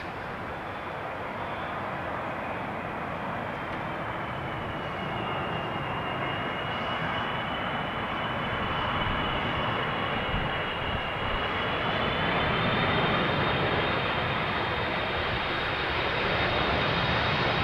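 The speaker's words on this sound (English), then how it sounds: "this is Delta Airlines Flight 56" A Delta Airlines airliner lands on runway 27 at Amsterdam Schiphol, its engines a steady, broad roar that holds throughout and builds slightly louder as the jet comes in, heard from the ground nearby.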